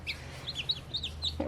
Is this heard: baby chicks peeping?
yes